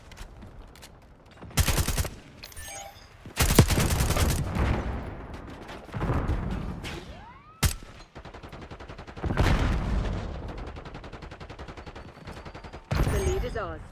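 Gunfire in a Black Ops match comes in repeated loud bursts and single cracks across the whole stretch, spaced by short lulls. Background game chatter and voices run alongside the shooting.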